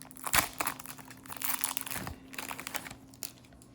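Wrapping being torn and crinkled open on a jumbo box of 2023 MMA trading cards, with irregular crackling rips and rustles in bursts at close range, no talking.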